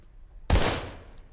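A single loud shotgun blast in the survival horror game Daymare 1998, a sharp close boom followed by a short decaying echo, heard alone with no voices.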